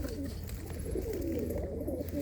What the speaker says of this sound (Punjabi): ਬਹੁਤ ਹੀ ਚੰਗੀ ਕਬੂਤਰੀ ਆ ਚਿੱਟੀਆਂ ਅੱਖਾਂ ਦੀ ਆ